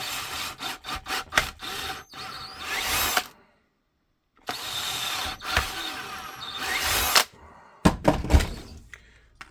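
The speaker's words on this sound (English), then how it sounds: "Let's drill this." Power drill boring holes through a drill guide while installing speed clips on a Toyota Tacoma, close and loud in several whining bursts separated by short silences.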